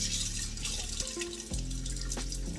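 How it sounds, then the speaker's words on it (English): Tap water runs steadily into a container for mixing with powdered peanut butter, a close, continuous trickling splash with no talking. "I'm just gonna add a little water to it"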